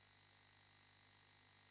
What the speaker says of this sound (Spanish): Está sonando un pitido.